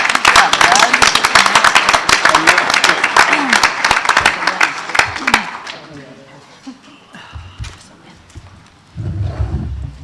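Attendees at a school board meeting give the scout troops a loud round of applause that lasts about five seconds, then fades into quieter room sounds with scattered voices and a brief rustle.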